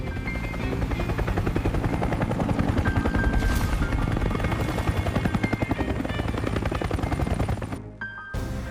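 A helicopter flies overhead, its loud, steady rotor chop pulsing continuously for several seconds before cutting off abruptly near the end, with no voices.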